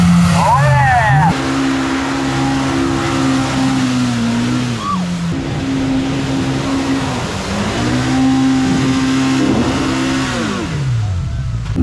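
A Pro R off-road racing car on an extreme bounty course, its engine revving loud and close with rising and falling pitch as it accelerates and shifts, with an announcer talking over it.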